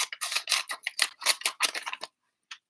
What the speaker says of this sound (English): I'm cutting right along the line.